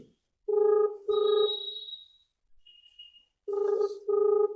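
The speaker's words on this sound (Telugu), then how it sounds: "రింగ్ అవుతుంది." A telephone rings in repeated two-part electronic trills separated by short pauses, loud and close, with no talking.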